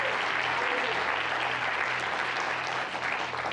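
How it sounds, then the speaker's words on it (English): A church congregation claps together at a Wednesday evening worship service, a dense, even wash of applause sustained throughout, with a low steady hum beneath and no clear speech. "give the Lord a big hand clap and welcome him tonight"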